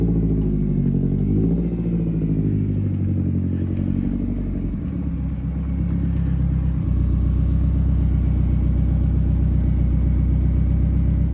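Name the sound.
BMW 2002 M42 turbo engine revving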